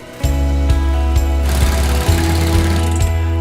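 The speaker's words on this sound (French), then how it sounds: "Ce cliquetis de la mécanique, les frombissements du moteur," A motorcycle engine runs close by, a loud, steady low throb with a mechanical clatter and a slight shift in pitch partway through.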